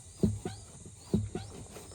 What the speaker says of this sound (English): if you've got a Fiat 500 and the clutch pedal sticks and sounds like this